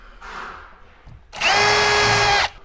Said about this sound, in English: to pre-drill 2 holes here